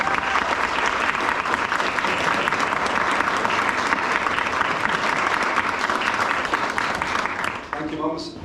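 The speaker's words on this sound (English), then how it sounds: "A huge round of applause for our mums." Wedding guests at Dundas Castle in Scotland give the mothers a loud, sustained round of applause that fills the room without a break, then drops off sharply near the end as a voice begins to speak.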